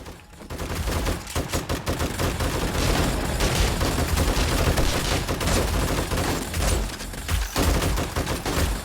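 Automated turret gunfire in 7 Days to Die rattles in dense, rapid bursts against zombies, loud and nearly continuous throughout.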